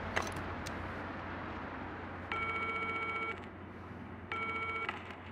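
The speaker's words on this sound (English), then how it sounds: "we'll just use the phone" In the video game Still Wakes the Deep, a telephone call sounds as two separate electronic tone bursts, each about a second long, over a low background hum.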